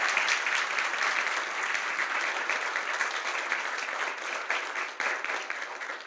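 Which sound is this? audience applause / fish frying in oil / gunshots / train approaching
audience applause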